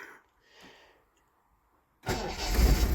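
An old Austin Princess car engine cranks briefly after a quiet pause and catches suddenly on choke, roaring into a loud, rough, close idle that holds to the end.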